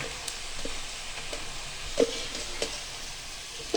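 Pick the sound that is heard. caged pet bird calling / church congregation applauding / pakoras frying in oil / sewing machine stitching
pakoras frying in oil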